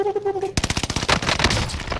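Rapid automatic gunfire from Call of Duty Warzone erupts after a brief tonal game sound, a dense stream of sharp shots rattling close and loud to the end.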